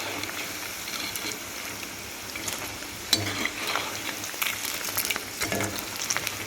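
Onion pakoda deep-frying in hot oil gives a continuous bubbling sizzle with scattered crackles and pops, moderately close and steady, with no voices.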